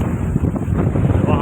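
Strong gusty wind blows hard like a small storm during a monsoon downpour, buffeting the microphone with a steady low roar for a short stretch, with a voice talking faintly underneath.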